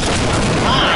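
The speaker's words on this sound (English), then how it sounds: "Suicide bomb!" A suicide bomb going off in the Half-Life video game, a dense, loud, roaring boom filling the whole short moment.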